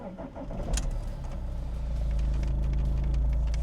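A BMW X3 20d diesel engine cranks and catches close by, a brief starter whirr giving way to a steady low, rough idle rumble that builds slightly and settles.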